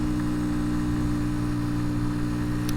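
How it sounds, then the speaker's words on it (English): Small 90cc Honda Cub motorcycle engine idling steadily with a low, even hum and faint mechanical buzz, close and continuous, with no talk. "It's not dead, but it's sort of weak. But then again, a 90cc engine should be."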